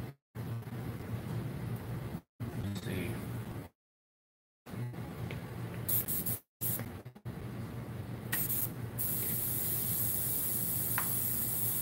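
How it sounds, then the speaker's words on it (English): An airbrush sprays white paint in a steady, close hiss that runs in several bursts separated by short silent pauses. "I might do white airbrush with this one."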